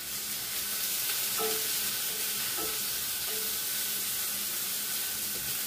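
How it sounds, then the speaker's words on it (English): Shrimp stir fry with garlic, diced cucumbers, peppers and onions stirred in a hot pan: a continuous close sizzle with a few distinct utensil knocks and scrapes against the pan. "And continue to stir."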